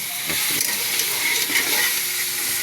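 Food being stirred in a pan, a steady sizzling hiss with faint scraping, close and continuous for a few seconds.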